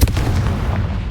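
Spell-blast explosion from Hogwarts Legacy: one dense, booming burst of low rumble that sustains loud for about a second before the tail thins.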